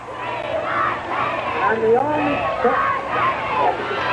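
A large crowd cheers for Robert Kennedy, with many voices yelling and whooping together in a dense, rising roar that swells and dips throughout.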